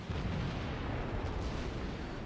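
Naval gunfire from warships in World of Warships, a continuous low, rumbling barrage of heavy booms filling the whole stretch, loud and dense with no clear gaps.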